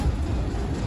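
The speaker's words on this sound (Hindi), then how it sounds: "तो अब ये ट्रेन हल्की स्पीड में गुजरी है" Hazara Express train rolling slowly through Mona railway station after a derailment, a steady low rumble of wheels and carriages close by, continuous and fairly loud with no voices.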